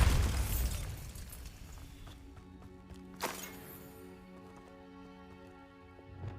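A Bombarda explosive spell cast in Hogwarts Legacy, a loud booming blast at the start that decays into a ringing tail, followed by a sharp crack midway and lingering tonal game ambience.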